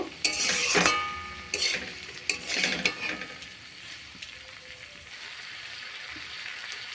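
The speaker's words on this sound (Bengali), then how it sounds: "ভাজা ভাজা করে নেব।" Flat beans and potatoes are stirred and frying in a pan over low gas flame, with scraping spatula strokes and clinks in the first few seconds, then a soft steady sizzle continuing alone.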